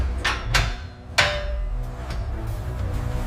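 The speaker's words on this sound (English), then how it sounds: "A massive heavy-duty stainless steel lid drops." A heavy stainless steel lid drops shut on a factory vessel used for making lipstick, at the degassing stage. A few sharp metallic knocks lead to one loud clanging impact, followed by a steady machine hum.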